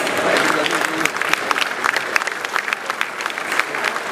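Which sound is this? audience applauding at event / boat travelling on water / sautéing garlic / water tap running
audience applauding at event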